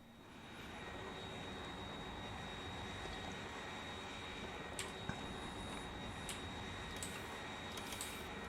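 A steady, faint engine roar from an aircraft flying with its afterburner in the game Factorio, a constant broadband drone with a few light ticks and clicks scattered over it.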